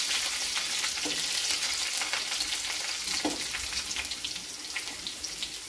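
Green chilies go into a pan of frying garlic for Maharashtrian methi bhaji, making a continuous soft sizzle with light stirring sounds, fairly quiet and steady throughout.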